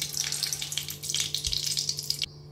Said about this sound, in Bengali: ওই তেলেই আমি আর 1 চামচ ঘি দিয়ে দিয়েছি।